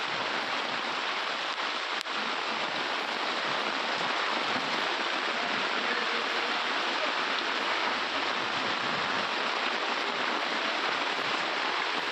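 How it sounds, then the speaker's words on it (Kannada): Heavy rain pours steadily in Hubballi, a dense, loud, continuous hiss of downpour with no break, filling the scene on its own without voices. "ವಾಣಿಜ್ಯ ನಗರಿ ಹುಬ್ಬಳ್ಳಿಯಲ್ಲಿ ಮಳೆಯ ಅಬ್ಬರ"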